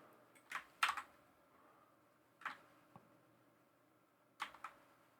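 Bursts of typing on a computer keyboard while coding in Common Lisp: a quick flurry of clicks, then isolated keystrokes and another short cluster, close and fairly quiet with no talk.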